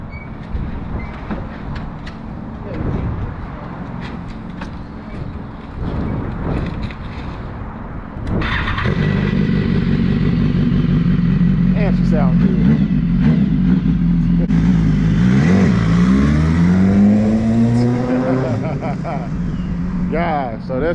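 A BMW S1000RR motorcycle engine cranks and catches, then idles loudly nearby and is revved up and down in rising and falling sweeps, with people talking nearby over the start.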